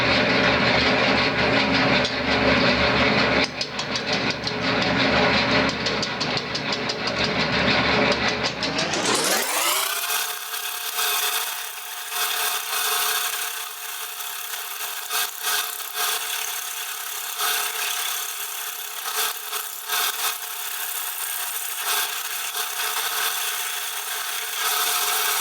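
A wood lathe rough-turns a maple bowl at slow speed. A harsh scraping cut rasps close and loud at first, then gives way to a steady whirring hum with intermittent tool chatter.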